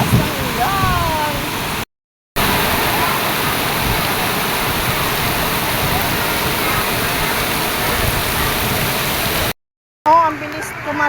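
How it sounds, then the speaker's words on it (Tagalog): Heavy rain pours down in a steady, dense roar, loud and close, with brief breaks in the sound and a voice speaking faintly over the downpour. "Taas ng ulan."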